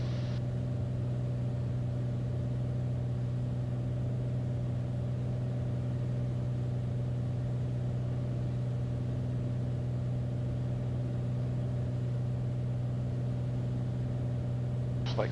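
Light aircraft piston engine at about 2,500 RPM and 18 inches of manifold pressure on an RNAV approach, heard from inside the cabin as a loud, steady droning hum that holds constant with no talk.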